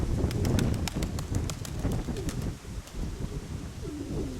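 Pigeons coo in low, soft bursts close by, with faint clicking sounds from their feet and wings scattered throughout.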